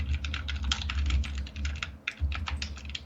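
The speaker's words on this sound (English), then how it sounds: "Here we go with the anger typing again." Fast, forceful typing on a computer keyboard, a dense, steady clatter of sharp key strikes with a brief pause near the middle, close and fairly loud.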